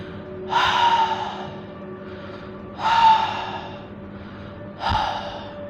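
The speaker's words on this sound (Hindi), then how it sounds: "कोई सांस ले रहा है देव के रूम के बाहर, लंबी लंबी सांसें ले रहा है" Three long, heavy breaths, each a rushing exhale spaced a couple of seconds apart, close and fairly loud against a quiet hum.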